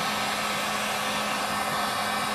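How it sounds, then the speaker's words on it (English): A heat gun blows steadily over the engine cases of a Stihl 046 chainsaw during a bottom-end rebuild, producing a constant, close whooshing fan-and-air drone with no breaks. "we're just gonna go around with the heat gun"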